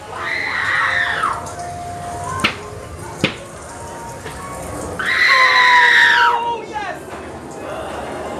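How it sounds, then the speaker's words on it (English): Screaming voices from the arcade-style shooter House of Death Miami, two loud harmonic shrieks about a second or two long each, with sharp impact hits between them over a steady background of game noise. "the guy behind me screaming at me"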